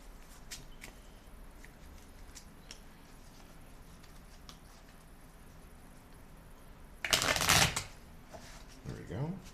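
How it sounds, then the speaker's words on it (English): A deck of cards being shuffled in one brisk, loud riffling burst lasting under a second, with faint tapping and handling noises before and after. "we're going to shuffle this"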